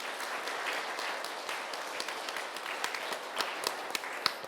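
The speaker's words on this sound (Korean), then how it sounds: "박수로 맞아주십시오." Faint, distant applause from a church mission-day audience welcoming a priest to the stage, a steady patter of clapping with a few sharper claps standing out, no talking.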